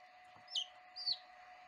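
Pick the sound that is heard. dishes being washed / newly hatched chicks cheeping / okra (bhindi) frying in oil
newly hatched chicks cheeping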